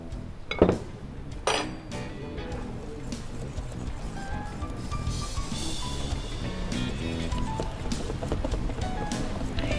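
Flour is stirred into blender bread dough in a bowl, opening with a couple of sharp clinks and followed by steady scraping and mixing against the bowl.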